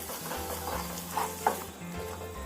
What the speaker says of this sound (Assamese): এইখিনি 2 পৰা 3 মিনিট সময় ভালদৰে ভাজিম।